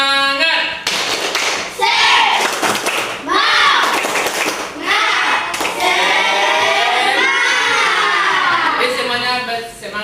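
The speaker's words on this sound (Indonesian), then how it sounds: "kita lakukan dulu tepuk semangat" Schoolchildren in a classroom perform a rhythmic spirit clap, loud bursts of clapping in a patterned beat, with children's voices chanting and calling between and over the claps.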